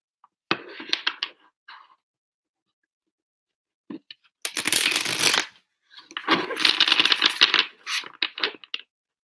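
Close, crisp bursts of a deck of angel cards being shuffled, a short riffle early on, then two longer, louder rustling runs separated by brief pauses.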